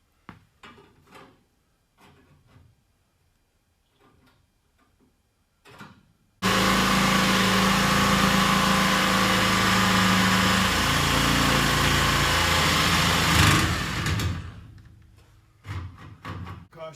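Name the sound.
cutting wheel cutting steel C notch plates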